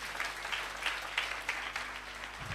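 A church audience applauds, a brief burst of steady clapping with a rhythmic pulse of louder claps, moderately distant and without speech over it.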